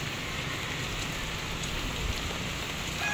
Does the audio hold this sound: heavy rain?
yes